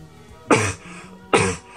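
Two separate coughs from one person, close and fairly loud, each a short harsh burst about a second apart, with quiet room tone between and no speech.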